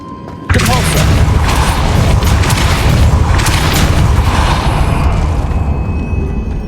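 A Depulso spell cast in Hogwarts Legacy, a sudden heavy boom erupting into a loud, sustained rumbling blast that fills the space for several seconds, close and powerful.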